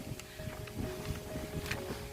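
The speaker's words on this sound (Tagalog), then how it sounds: "Malakas ang hangin." Steady wind gusts buffet the microphone at a seaside resort, with a low rumbling roar and faint splashing in the background; no voices.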